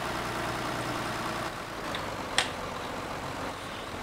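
A farm tractor engine runs at a steady idle, a continuous low rumble close by with one brief sharp click partway through.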